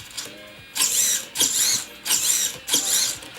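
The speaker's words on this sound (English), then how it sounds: "what I'm actually going to go ahead and test right now is the steering servo on the left hand side" An RC steering servo driven by a servo tester whirs in four short mechanical bursts, each a close, gritty buzz of motor and gears with brief pauses between.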